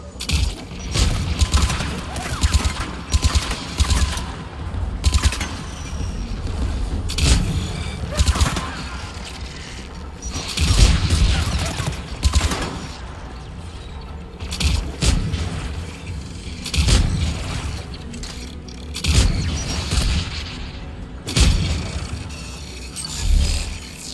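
Anti-aircraft guns in the Mass Effect video game fire in repeated booming bursts at a tower, a dense fusillade of blasts and mechanical clatter that comes and goes throughout, with occasional voices mixed in.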